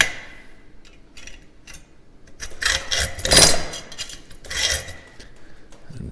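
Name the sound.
hacksaw cutting a bottle opener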